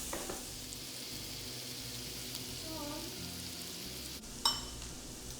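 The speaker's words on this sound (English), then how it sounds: "we're going to get that all coated with the butter and let it saute for a few minutes" Diced white onion sautéing in butter in a pan, giving a steady, quiet sizzle throughout with a brief clink of a utensil near the end.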